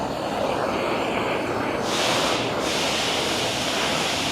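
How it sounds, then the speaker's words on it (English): A torch flame roars steadily and loudly, close up, as it is swept over a plastic rear bumper on a Chevy Camaro during repair, with a brief brighter hiss midway and no talk. "I'm gonna hit it with a torch before I put this on"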